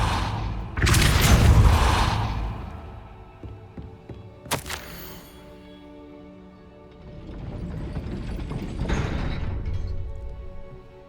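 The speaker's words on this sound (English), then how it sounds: "That looks as if it might raise the gate." A heavy gate mechanism in Hogwarts Legacy grinds and rumbles as it raises, with a loud low churning burst, a sharp clank, then a second long grinding rumble that swells and fades.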